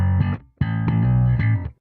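A distorted electronic bass sample loop from the Ace of Bass music game plays as two heavy, buzzing phrases with a short gap between them, loud and close, no talking.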